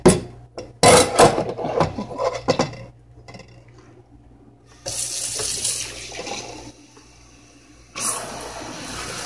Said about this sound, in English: Of course, you have to rinse your pitcher.